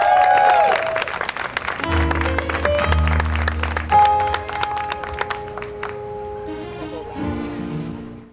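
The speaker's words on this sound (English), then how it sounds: "Can you give yourselves a great round of applause?" An audience claps during a Juneteenth celebration for Liberty Amendments Month, applause running under sustained musical tones and fading toward the end.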